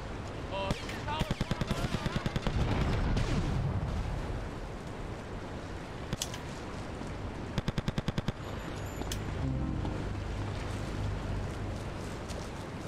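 Grand Theft Auto: Liberty City Stories gunfire, including M4-style automatic bursts, crackles in rapid volleys near the start and again later, layered over loud game noise and a rumbling engine-like bed.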